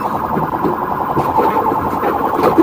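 A police siren wails during a high-speed car pursuit through city traffic, its loud, warbling cycles running steadily under heavy road and engine noise.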